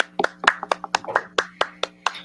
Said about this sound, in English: Get a clap.